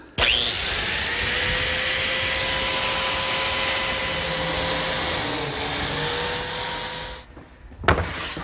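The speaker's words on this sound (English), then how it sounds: "I have to cut slots in the edge of the frame and on the face of the panel" Biscuit joiner cutting slots in the edge of a wood frame and the face of a panel, made from old pine timber, a loud steady motor whine lasting several seconds before it stops, then a brief knock.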